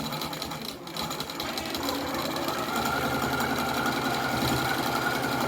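A home sewing machine stitches a quilt in a steady, fast mechanical whir with rapid needle clatter, close and continuous for the whole stretch with no talking.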